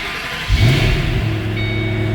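A 2008 Ford Mustang Shelby GT500 engine catches after a brief crank and settles into a steady, rumbling idle close by.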